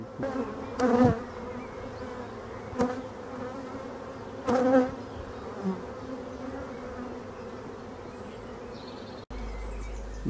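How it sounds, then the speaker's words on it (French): Honeybees buzz around a hive with a naturally swarming colony: a close, steady hum that swells louder as bees pass near. "on peut voir que la ruche a un bon comportement, les abeilles sont calmes"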